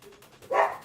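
A single short dog bark or yip, close and moderately loud, rising abruptly out of a quiet room after a faint lower murmur.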